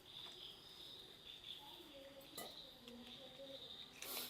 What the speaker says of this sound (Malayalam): ചീവീടിൻ്റെ സൗണ്ട് അല്ലേ?